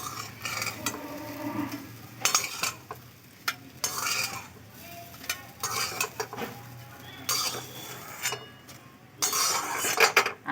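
Elephant foot yam fritters frying in oil with a moderate sizzle, broken up by repeated clinks and scrapes of a utensil against the pan.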